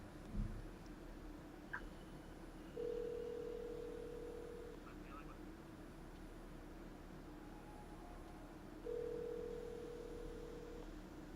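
A phone call rings out with two long, steady electronic ringback tones several seconds apart, faint over a hissy background.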